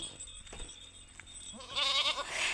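Goats bleating in a village setting, a near, moderately loud wavering bleat rising toward the end over a low background of outdoor rumble and faint clatter.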